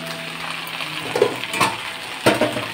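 Jute leaves (pat shak) cooking in a pan give a soft steady sizzle, with a few brief scrapes and clinks of utensil against the pan partway through.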